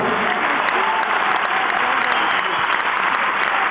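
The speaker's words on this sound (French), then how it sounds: "on, les applaudit déjà" Audience applause fills a concert hall at the Zénith in Montpellier during a show, a dense, steady wash of clapping from a large crowd that holds evenly throughout.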